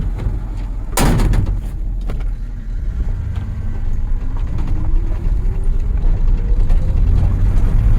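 A car door shuts with a single sharp slam early on, followed by a steady engine rumble and road noise as the vehicle keeps running.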